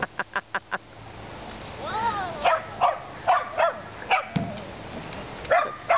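A Shetland sheepdog barks outdoors by a swing in a fast burst of sharp yaps, followed by spaced, louder single barks mixed with yelps and whines, close and clear.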